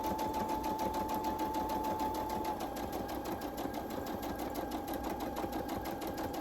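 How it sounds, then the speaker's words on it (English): A sewing machine runs steadily and continuously, stitching a half-inch seam on a beginner rag quilt, with a close, even mechanical whir and rapid needle rhythm throughout. "So line it up and just start sewing."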